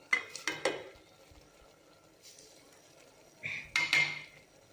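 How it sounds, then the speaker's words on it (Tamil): A spoon stirs mashed lentils into a pot of sambar with drumstick leaves, making a few sharp metallic clinks and scrapes against the pot, with a quiet gap between two short clusters. "நம்ம மசிச்சு வச்சுருக்க பருப்பையும் கலந்துருங்க"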